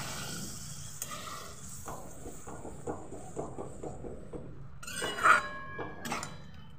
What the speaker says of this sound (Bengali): যে ডালটা আমি সেদ্ধ করে রাখলাম সেই ডালটাকে আমি ঢেলে দেব।